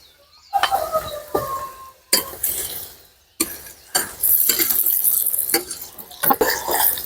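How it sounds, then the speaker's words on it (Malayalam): Fried fish, likely sardines for a Kerala-style fish pickle, stirred into chilli masala in a pan, with sharp metal spoon scrapes and clanks in irregular bursts and a frying rustle between them, close and loud, no talking. "നമുക്കിനി നമ്മുടെ ഫ്രൈ ചെയ്തിരിക്കുന്ന നമ്മുടെ മീൻ ഇട്ട് കൊടുക്കാം"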